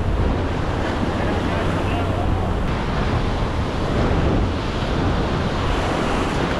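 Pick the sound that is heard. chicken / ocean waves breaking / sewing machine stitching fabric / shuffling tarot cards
ocean waves breaking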